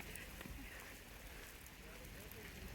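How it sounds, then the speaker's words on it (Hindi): Heavy rain falling outdoors during a morning walk, a faint, steady hiss of rainfall on surfaces, continuous and fairly distant. "चलो भाई बारिश आ गई तेज।"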